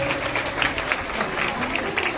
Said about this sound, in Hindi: हमारी निशा मैम के लिए एक ताली बजाएं, दो तालियों से उनका स्वागत किया जाए